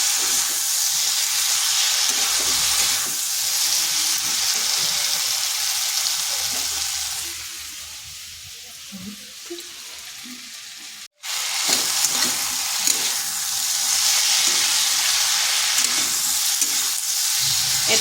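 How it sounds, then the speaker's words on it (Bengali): Okra and spices fry in a pan with a loud, continuous sizzle and steady stirring scrapes; the hiss briefly fades and softens midway, cuts out for an instant, then returns at full strength. "এটাকে একটু সময় ধরে কষে নিতে হবে যাতে মশলাটা ঢেঁড়সের মধ্যে ঢুকে যায়।"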